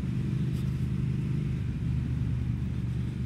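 A 2020 Triumph Speed Twin 1200 engine hums at a steady low throb while riding, with the engine on the gas around 5,000 revs, a close, continuous rumble mixed with wind noise and no talk.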